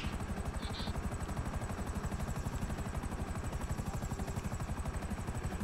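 Helicopter rotor in GTA V Online, a damaged helicopter with a steady, rapid blade chop and engine whine running loud and continuous throughout.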